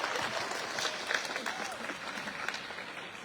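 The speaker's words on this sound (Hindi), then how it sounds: "अब सबके लिए जोरदार तालियां बजा दो।" A crowd of villagers at an outdoor open gym inauguration claps and cheers steadily, a dense wash of applause with some voices mixed in, at moderate volume.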